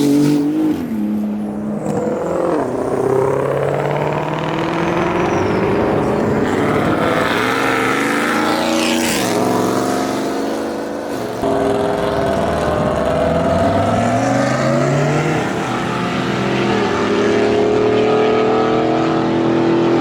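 Sports cars leaving a car show, among them a GT2 RS, a GT500 and a Viper ACR, roar past one after another with loud engine drones and rising revs that swell and fade, and the sound stays loud the whole time.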